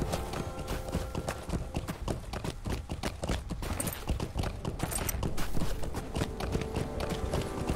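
Horse hooves clip-clop steadily and quickly while riding through mountainous terrain in Lord of the Rings Online (LOTRO), a continuous run of sharp, close hoof strikes with no talk.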